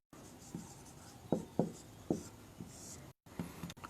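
Chalk or a marker scratches and taps on a board during a lecture, making a series of short, uneven strokes in a quiet room, moderately close.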